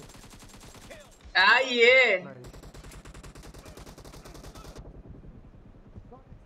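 Rapid bursts of M4 rifle fire rattle in a PUBG Battlegrounds India match, a fast steady chain of loud close shots lasting several seconds, with someone talking over the start and end.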